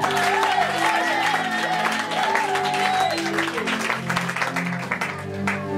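A church congregation at an Easter service applauds and cheers loudly and continuously, with a voice singing or calling over the crowd.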